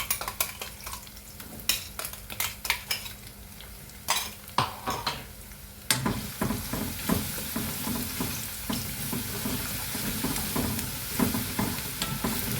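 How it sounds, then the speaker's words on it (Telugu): A paste frying in a pan for Andhra-style lemon rice: continuous sizzling with repeated clattering stirs of a utensil against the pan, steady and close, with no talk. "ఇవి బాగా అంటే పచ్చివాసన పోయేంత వరకు వేపుకోవాలండి"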